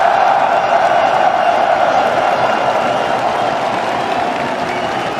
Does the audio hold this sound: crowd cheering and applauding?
yes